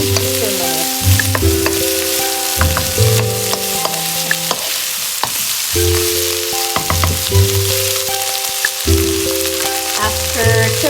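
Tofu and spices fry in a pan, giving a loud, continuous sizzle close up, with scattered clicks and scrapes as the food is stirred.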